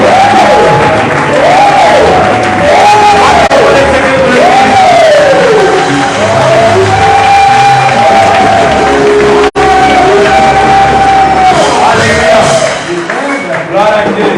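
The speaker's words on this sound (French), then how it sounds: "on va faire une très forte acclamation au nom de Jésus" Loud crowd at a church seminar cheering and acclaiming, sustained shouts and whoops rising and falling over a dense wash of voices, with a voice calling out above the roar.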